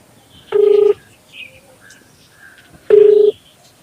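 Two steady electronic telephone dialing tones, each about half a second long and separated by a few seconds, loud and close, with faint background sounds between them.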